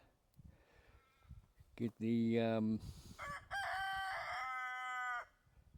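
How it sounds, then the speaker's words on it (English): A rooster crows loudly twice in a row, long strained calls rising and falling, over faint background rustling. "a few roosters around"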